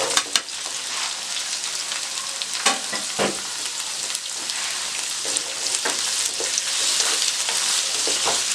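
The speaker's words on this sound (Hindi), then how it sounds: "आलू को आपने तकरीबन 2 मिनट के लिए ऑयल में फ्राई करना है।" Potato pieces fry in hot oil in a pan with a loud, continuous crackling sizzle, scattered sharp pops and occasional stirring clatter, close by and with no voices.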